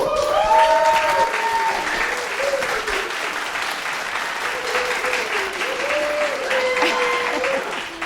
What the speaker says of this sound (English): Let's give MaryBeth a round of applause.